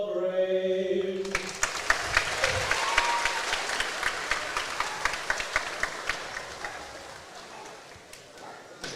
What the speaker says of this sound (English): A round of applause for the color guard.